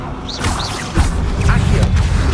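The Incendio fire spell is cast in the video game Hogwarts Legacy: a loud whooshing burst with thuds and swishes, mixed with bright chirping magical tones inside a busy, constant game soundscape.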